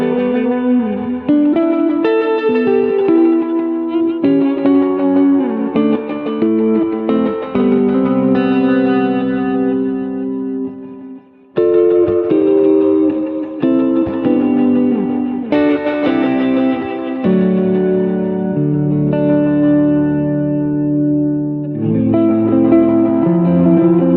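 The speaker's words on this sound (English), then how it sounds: "the Magneto machine sets up a multi-head echo with all heads on, while the pre-delay knob adds feedback" Electric guitar running through a Strymon BigSky Magneto multi-head echo reverb with all heads engaged and feedback added, sustained chords and notes smearing into dense repeating echoes, loud and continuous with a brief dip midway.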